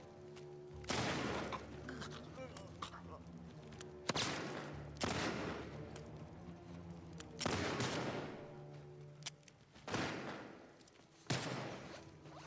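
Gunfire in The Last of Us Part II, several sharp, loud shots spaced a few seconds apart, each with a booming tail, over quiet game ambience.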